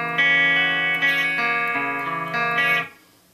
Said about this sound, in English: So the chord is going to look and sound like this.